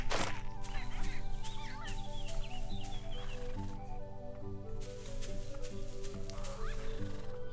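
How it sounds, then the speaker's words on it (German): Horse-like neighing and whinnying calls from a creature in the video game Angeldust, repeated over a steady low in-game ambient drone and hum, moderately loud, with no talking. "Hört sich an wie so ein Pferd"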